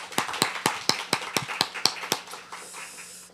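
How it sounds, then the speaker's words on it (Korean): A church congregation at a Sunday worship service applauding to bless newly appointed cell group leaders: about a dozen sharp, evenly spaced claps, fairly faint and slightly distant, fading into a soft hiss at the end. "큰 축복의 박수로 함께 축복하기 원합니다"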